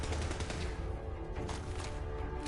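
Rapid gunfire from a Fallout 4 firefight, dense and loud, with bursts of shots layered over constant game background noise and no pauses.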